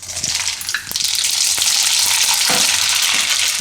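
Mustard seeds dropped into hot oil for a Gujarati onion pickle: an intense, close, crackling sizzle that swells after the first second and keeps spitting and popping, with a few clinks of a spoon and no talking.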